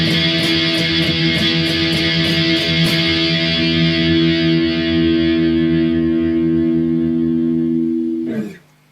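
Distorted electric guitar from a song's interlude rings out loud and sustained, with a few rhythmic picked accents early on, then decays and cuts off with a brief scrape at the end.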